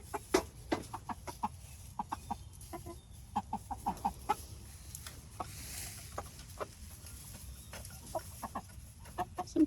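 A pen of a dozen roosters on a farm clucks steadily, with short, scattered calls and light pattering of feet rising over a quiet background, some birds close and others farther off.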